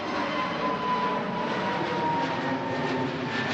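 An easyJet airliner passes overhead near Manchester Airport, a steady, loud broadband engine roar that fills the whole moment without letup.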